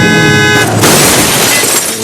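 A car crash sound effect with a horn: a loud, sustained horn blare that gives way to a harsh, broad crunching crash, all close and very loud, with no talking.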